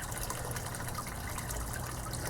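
Water flows steadily in a backyard goldfish pond, a continuous close gushing trickle with no voices.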